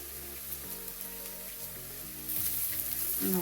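Ground spices sizzle and fry steadily in a pan for a Kerala-style sweet potato dish, with turmeric, cumin powder and crushed dried chili in the oil, a close, continuous crackle that grows brighter and louder toward the end.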